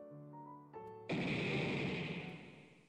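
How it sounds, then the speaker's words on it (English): RPG Maker explosion sound effect in a Japanese-learning survival video game: a short tonal chime gives way to a sudden loud, roaring burst that holds and slowly decays over about two seconds. "the RPG Maker explosion sound"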